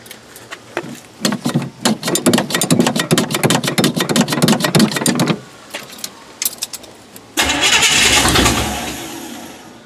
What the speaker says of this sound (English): Hopefully it'll fire up and idle.